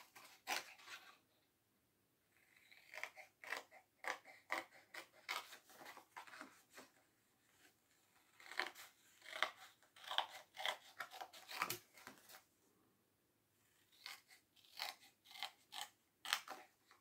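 Scissors snip around a paper scrapbook template for a hexagonal mini album, giving quiet, close crisp cuts in uneven bursts with brief pauses between them.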